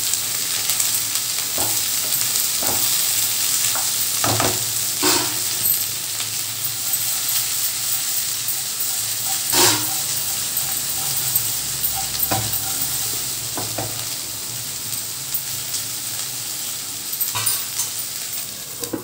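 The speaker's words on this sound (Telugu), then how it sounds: "క్యాప్సికమ్ వేసిన తర్వాత కూడా స్టవ్ ఫ్లేమ్ని చక్కగా మీడియం ఫ్లేమ్లో పెట్టుకుంటే క్యాప్సికమ్ నిదానంగా మగ్గుతుంది." Capsicum sizzles steadily in a pan over a medium flame, a continuous frying hiss broken by scattered clicks and scrapes of stirring. No one speaks over it.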